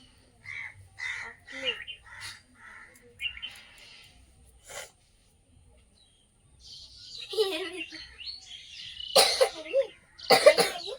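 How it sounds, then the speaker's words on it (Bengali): A person coughs in a village kitchen while egg cutlets are being shaped. There are two sharp, loud coughs near the end, and crows caw and call faintly in the background beforehand. "এইসব কাশিটা কমছেই না"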